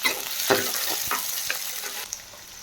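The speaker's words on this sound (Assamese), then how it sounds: "এইফালে তেল গৰম হৈ গ'ল আৰু পিঁয়াজ ঢালি দিছোঁ" Onions and green chillies frying in hot oil in a home kitchen, a steady bright sizzle with a few sharp crackling pops and stirring scrapes, fairly close and continuous with no talk.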